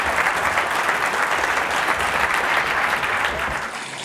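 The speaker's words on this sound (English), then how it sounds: "You guys are very welcome to give him another round of applause." An audience at a talk on the existence of God and the universe's beginning gives Dr. Craig a round of applause, dense steady clapping throughout that tapers slightly near the end.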